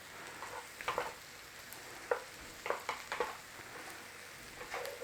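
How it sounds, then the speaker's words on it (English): Mushrooms soften in a pan of butter and chopped vegetables, a faint steady sizzle with intermittent light clicks and scrapes of stirring, heard up close and quiet without any voices. "Just soften up those mushrooms in there with that veggie and butty mixture"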